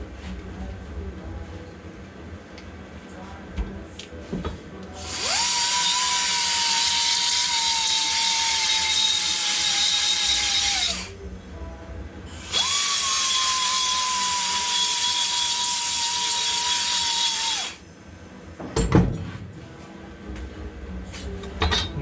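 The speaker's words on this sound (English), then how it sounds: "basically I use the grinder, the belt sander around this to get rid of any burrs that may be on there" Two sustained bursts of loud, high-pitched power-tool grinding on a rusty Volkswagen Beetle quarter panel, each lasting several seconds with a brief pause between, close and harsh, with a steady whine throughout.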